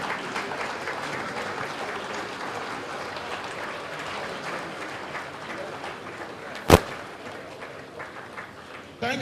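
Audience members give a round of applause at an event, a steady crowd clapping throughout with one sharp loud bang partway through and a voice faintly in the background.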